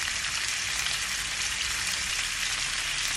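Garlic and pork ribs fry in a pan, a loud, steady, close sizzle with dense crackling throughout and no voices.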